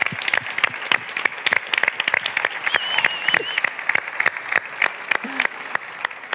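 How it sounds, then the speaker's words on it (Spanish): A modest audience at an eShow ecommerce talk claps for the speakers, distinct sharp claps in an irregular rhythm, fairly close, with faint voices and a brief tonal sound in the background. "Un fuerte aplauso para estos superponentes."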